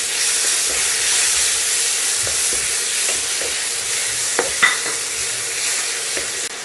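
Tomatoes sizzle and fry in a pan with ginger-garlic paste and cinnamon-clove powder for a Chettinad chicken curry, a loud steady hiss with occasional scraping stirs and small clinks, no talking.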